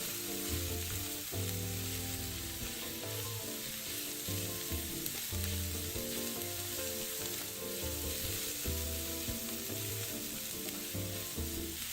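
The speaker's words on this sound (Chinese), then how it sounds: "炒至洋葱溢出香气后，再加入2小匙黑胡椒粉，一起拌炒均匀。" Onions stir-fried in a wok with ground black pepper, giving a steady loud sizzle and crackle with stirring scrapes, while music plays throughout and no one speaks.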